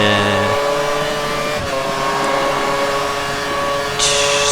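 An F1 car in the F1 2013 racing game screams along a wet Malaysian circuit, a continuous high-pitched engine whine with shifting revs under braking and slipstreaming, loud and steady throughout.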